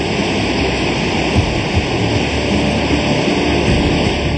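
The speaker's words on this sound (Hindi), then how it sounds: "आपके कानों में आवाजें जो आ रही हैं, गांधी सरोवर में मौजूद ग्लेशियर से गिरने वाले पानी की हैं" Glacier meltwater falling at Gandhi Sarovar near Kedarnath in the Himalayas, a loud, steady broadband roar of rushing water with no pauses.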